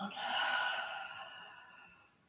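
A long, deep exhale during a yoga class, a breathy whoosh that swells in the first half-second and then tapers slowly away, close and alone with no talking.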